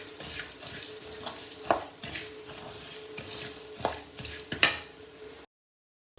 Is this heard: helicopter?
no